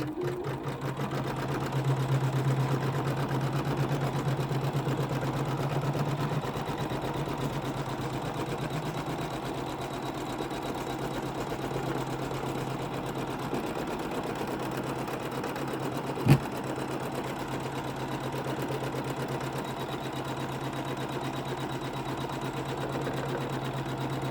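Embroidery machine stitching through fabric and wadding while making a curved zip pouch, a steady mechanical hum with a rapid needle rhythm running throughout, plus one sharp click partway through.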